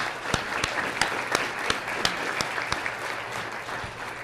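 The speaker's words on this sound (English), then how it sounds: "Give yourselves a round of applause." An audience at a workforce program breakfast claps as a dense, continuous crowd, with a few sharper individual claps standing out at an even pace above the general wash.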